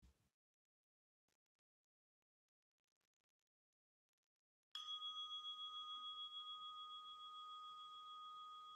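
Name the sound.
meditation bell signaling the start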